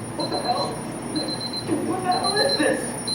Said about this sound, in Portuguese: Ele tomou um susto com o despertador pulando na cara dele.